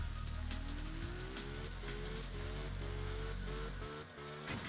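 A car drifting in the racing game Absolute Drift, with a steady engine whine that climbs in pitch through several gear-like steps, loud and continuous, easing briefly near the end.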